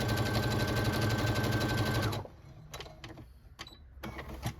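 A sewing machine stitches quilting fabric blocks in a steady, fast mechanical whir for about two seconds, then stops, leaving a few faint clicks and handling noises.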